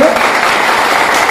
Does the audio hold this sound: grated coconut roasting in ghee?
no